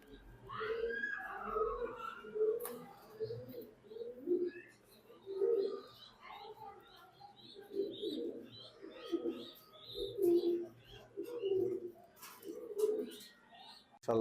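Racing pigeons coo repeatedly in soft, throaty rolling bursts, fairly close, with some chirps and a voice talking briefly near the start.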